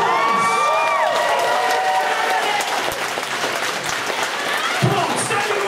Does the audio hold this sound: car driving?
no